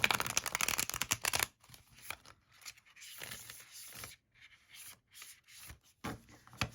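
Tarot cards with thin cardstock being shuffled: a fast flurry of crisp riffling at the start, then softer intermittent slides, taps and shuffles, close and moderately quiet.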